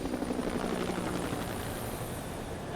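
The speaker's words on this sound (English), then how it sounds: "Ah, chopper." A helicopter in Max Payne 3 drones steadily with continuous rotor chop, fairly loud and close, during an action sequence on top of a train.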